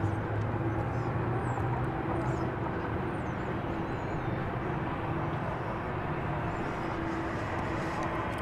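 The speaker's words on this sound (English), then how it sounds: "the San Diego plane is on the move" An airplane moves at DFW Airport with a steady, broad engine rumble heard from a distance, and faint whistling sounds above it throughout.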